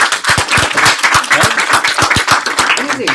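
Applause and hand clapping from a crowd at a community gathering, many quick, dense claps with a few louder ones standing out, continuous and fairly loud for several seconds, with voices mixed in.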